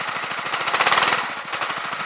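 A small engine belt-driving an induction motor generator revs up, its rapid pulsing chatter swelling briefly louder before settling back, steady and close.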